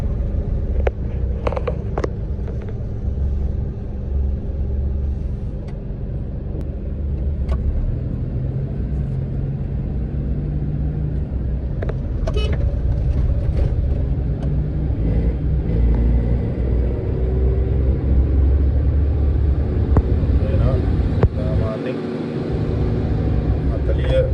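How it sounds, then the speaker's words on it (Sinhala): An automatic car's engine revving hard in second gear, a sustained low rumbling drone that rises slightly over time, with someone talking over it and occasional clicks. "මේ වාහනේ එන්ජින් එක රේස් වෙනවා"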